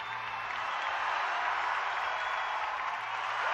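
Crowd at a climbing World Cup lead final in Kranj breaks into steady, dense applause, a sustained hiss of many hands clapping at moderate distance with no pauses.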